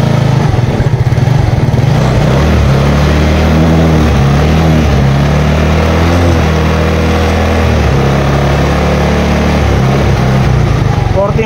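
Idling car engine being revved while a mechanic tests a charging system and pulley regulator, a loud continuous low rumble with rising and falling pitch swells close by.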